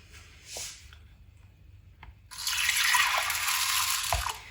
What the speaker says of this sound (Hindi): तो यहाँ पे मैं दाल को धो दूंगी।